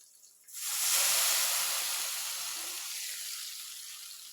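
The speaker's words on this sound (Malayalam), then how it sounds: "എന്നിട്ട് അതിലേക്ക് പുളിവെള്ളം ഒഴിക്കണം" Tamarind water hits frying onions in a hot pan with a sudden loud hiss that settles into a steady, fading sizzle, close and alone.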